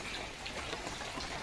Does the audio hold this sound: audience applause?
no